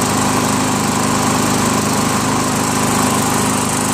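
Yard Machines by MTD 500E push mower with a Briggs & Stratton engine, just pull-started, runs at a steady, loud, buzzing idle right next to the listener, with no voices.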